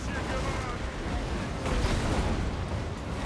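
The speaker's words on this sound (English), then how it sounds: "He's up there. Release the bomb." Bomb blast in the fantasy strategy game Total War: Warhammer, a dense, rumbling explosion that swells and roars for several seconds amid battle noise, with a voice partly buried in the din.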